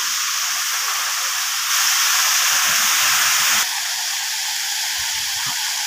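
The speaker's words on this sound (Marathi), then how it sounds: "हा पाण्याचा प्रेशर तुम्ही बघू शकता" An Ecozen solar water pump, a 5 HP 30-metre unit, discharges water under pressure with a steady, loud hissing spray that continues without a break and briefly swells in the middle.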